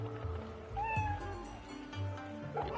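A cat is petted in Fate/Samurai Remnant and gives a couple of clear, close meows over low, soft background music, with no speech.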